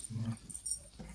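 A male dog in a podcast studio gives short whimpering, growly vocal noises, brief and close, with no talk over it.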